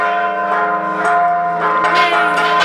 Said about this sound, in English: I was getting a shot of the bells and then I noticed that the guy just turns them manually